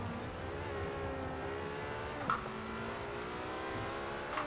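Porsche race car engine in Forza Horizon 4 holds a steady rising drone, dips briefly with a gear change midway, then climbs again, loud and continuous.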